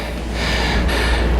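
Heavy, rapid breathing after a one-leg lower-body drop set workout, loud and close, a steady rush of air with a sharper gasp midway, no speech.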